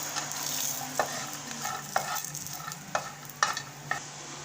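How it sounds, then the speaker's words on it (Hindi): Dates, raisins and fig pieces fry in desi ghee for poppy-seed laddu, with a steady sizzle under roughly one-per-second scraping strokes of a stirring spoon in the pan, close and clear. "इसमें हम ये खजूर डाल देंगे, किशमिश डाल देंगे और यहाँ पर इंजीर के दाने कुछ ये डाल देंगे। इसको भी हम फ्राई करेंगे।"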